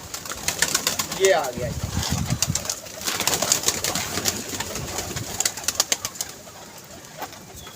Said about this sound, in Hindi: तो आज ही कबूतर उतरा है